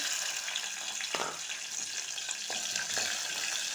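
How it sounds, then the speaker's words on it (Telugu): Green chillies frying in hot oil, a dense continuous sizzle and crackle with a few sharper spatters and stirring clinks, close and steady throughout. "ఆయిల్ అయితే వేడెక్కిందండి పచ్చిమిర్చి"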